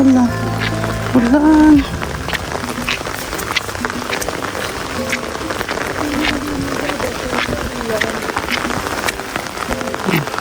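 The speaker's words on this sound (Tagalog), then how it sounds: "Sinong hindi mababasa sa ulan." Steady rain falls on a farm field planted with crops and mango trees, a dense patter of drops throughout, with a person speaking briefly at the start.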